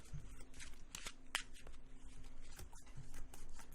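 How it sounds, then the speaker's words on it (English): Magic: The Gathering cards being shuffled by hand in a quick series of soft crisp riffles and flicks, close and fairly quiet, with no talking. "Shuffle those around a bit."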